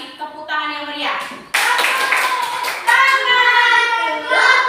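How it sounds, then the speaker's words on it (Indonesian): Children applaud in a classroom, scattered claps building into steady group clapping, with children's and adult voices chattering underneath. "sekarang kita kasih tepuk tangan yang meriah"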